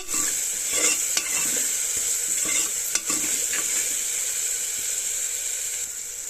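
Spices with salt, turmeric, coriander and cumin powder sizzle in hot oil while being stir-fried for khichdi, a steady close hiss broken by a few sharp clicks of the spatula against the pan.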